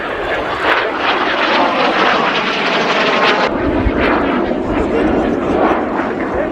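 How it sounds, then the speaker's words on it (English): A Jet Provost Mark III turbojet trainer flying at an air show roars loudly and continuously, its broad jet rush shifting in tone partway through as it passes. "Its turbojet provides the power plant, one of the most successful British jet engine designs of all time."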